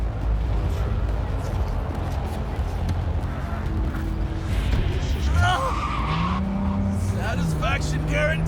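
A car in Cyberpunk 2077 pulls away with its tires skidding over a steady engine rumble, with squeals rising near the end and people talking over it.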